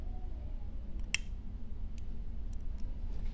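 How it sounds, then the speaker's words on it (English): A cuticle nipper snips a nail sticker with one crisp, sharp click, followed by a few faint ticks against a quiet background hum. "pretty much I will just use my cuticle nipper"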